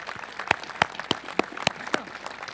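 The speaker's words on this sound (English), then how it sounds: "we applaud you" Graduation audience applauding, a loose run of separate sharp claps rising over a quieter clapping background, fairly close.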